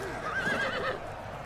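Cavalry horses in Total War Rise of Mordor, Rohan riders on the charge, let out a clear whinny over faint hoof clatter and battle din, moderately loud and close.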